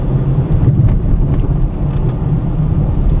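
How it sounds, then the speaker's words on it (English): A Chrysler 300 sedan rolls over railroad tracks, a steady low road rumble and hum heard from inside the car with a few faint bumps, no talk. "A very nice ride over these railroad tracks."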